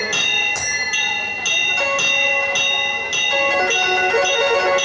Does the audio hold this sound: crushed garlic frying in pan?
no